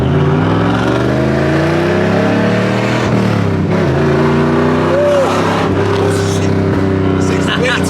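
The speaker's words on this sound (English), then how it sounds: "Roll in first gear and floor it." A BMW M4 floored in first gear from a roll makes a loud, near engine roar that climbs in pitch, with rising revs and a shift-like dip, heard from inside the car.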